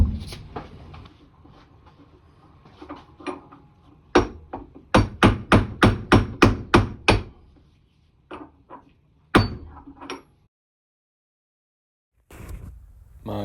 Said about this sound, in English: Using a 30mm socket and a hammer.